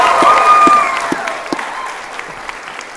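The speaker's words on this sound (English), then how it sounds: "so a round of applause" Applause from the audience at a graduation ceremony for the Class of 2024, loud at first and then thinning out to scattered claps, with a voice or cheer rising over it at the start.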